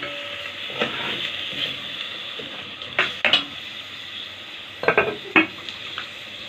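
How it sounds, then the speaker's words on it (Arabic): Partly boiled meat and onions are stirred in a pot over a low sizzle, with a spoon scraping and clinking against the metal in several sharp bursts. "وهقلبها برضو تقلبتين في البصله"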